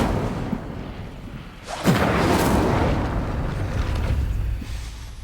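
The Incendio fire spell is cast in Hogwarts Legacy, bursting out as a loud whooshing blast of flame that roars for a few seconds and then trails off.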